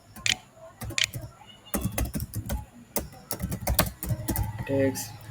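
Typing on a computer keyboard in quick irregular bursts of close, crisp key clicks. A person talks over the typing.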